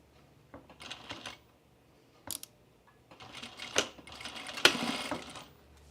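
A sewing machine stitching 5/8 inch seams on a pair of pants gives short, faint bursts of mechanical chatter that grow busier and louder toward the end.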